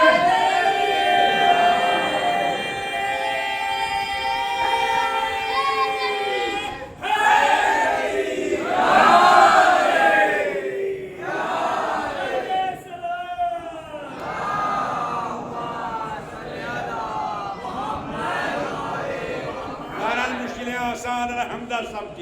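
Majlis congregation in a mosque loudly chanting the slogan Nara-e-Haidari in unison, a swelling wave of many voices in repeated collective shouts filling the space.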